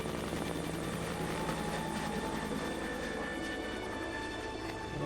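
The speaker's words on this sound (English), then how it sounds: "was to fly it out by helicopter." A helicopter lifts a dinosaur fossil out of a canyon during a University of Alberta excavation; a loud, constant rotor and engine roar fills the whole stretch, with no voices.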